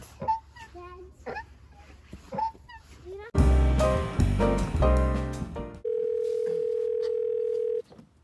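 A steady telephone dial tone sounds alone for about two seconds at the end, after a child and an adult talk and a loud burst of music-like tones.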